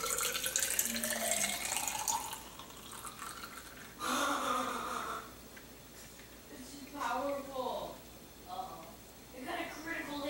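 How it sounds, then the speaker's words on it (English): Homemade wine runs from the spout of a fermenting bucket into a container, a trickling, splashing stream that starts and stops in bursts while someone talks over it. "since these fermenting buckets have these handy dandy spouts on them, we'll just fill this guy up and take our reading"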